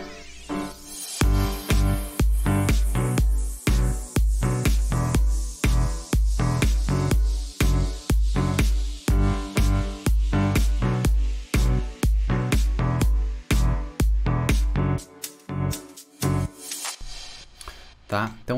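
A 2016 electronic dance remix plays loud and steady, driven by a punchy four-on-the-floor kick pulse with layered synths, briefly dropping out near the end.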